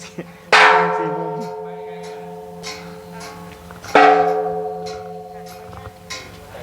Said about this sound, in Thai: เสียงคนละเสียงนะครับระฆัง